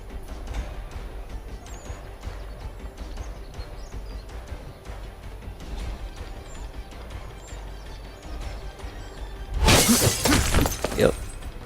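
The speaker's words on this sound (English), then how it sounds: "we're gonna be smashing at this window" Window glass smashed in a video game, a loud bright crash with scattering shards bursting out near the end after a stretch of quieter ambient game sound.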